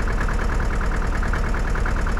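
Tractor engine in the Farming Simulator 2013 video game, a steady mid-pitched droning idle with a faint rhythmic knock, running alone without talk.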